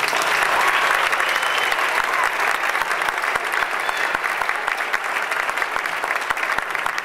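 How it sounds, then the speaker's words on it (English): Sustained applause from a theater audience thanking student performers after an Arts Council program, dense steady clapping that holds at an even level throughout with a faint murmur of voices. "we want to thank our students one more time with a nice round of applause."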